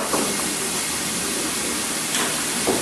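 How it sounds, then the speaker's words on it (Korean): Seafood and vegetables stir-frying in a hot pan with green chili give a loud, continuous sizzling hiss with a few brief clatters of the utensil. "야채를 넣는데 야채 넣고 볶는다"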